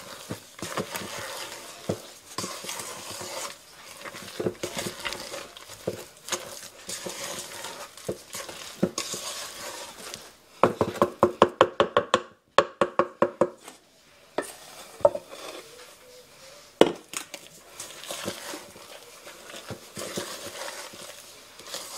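Beaten egg whites being stirred into rainbow cookie batter in a mixing bowl, with soft scraping and folding strokes followed by a run of sharp rhythmic taps of a utensil against the bowl, close and moderately loud.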